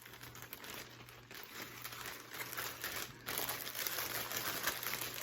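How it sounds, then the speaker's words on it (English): A Michael Kors crossbody bag, convertible to a clutch, being slid back into a plastic bag, giving steady close crinkling and rustling of plastic throughout, with no talk. "let me put this back in the plastic bag here"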